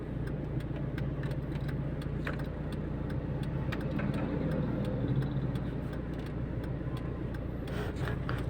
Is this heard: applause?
no